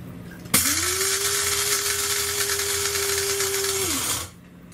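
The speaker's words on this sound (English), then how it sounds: "We're going to do a coarse grind for 5 to 10 seconds." A PARACITY electric coffee grinder runs a coarse grind for coffee beans, a loud steady motor whine that starts abruptly, holds even for about three seconds, then winds down and stops.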